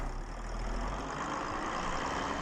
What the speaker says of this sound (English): Car starting sound effects seem to just be stuck